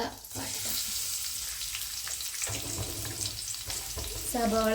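Sliced onion frying in coconut oil in a pan, a loud close sizzle that fills the whole stretch, with a few utensil knocks and no voices.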